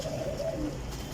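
Pigeons coo softly and steadily at a pigeon loft in Sarai Alamgir, Jhelum, in a low, continuous murmur that sounds close by, with no voices over it.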